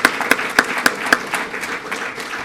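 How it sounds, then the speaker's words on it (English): An audience at a police swearing-in and promotion ceremony claps briefly, the first few claps sharp and evenly spaced before the applause thins and fades. "So let's give Kate another round of applause too."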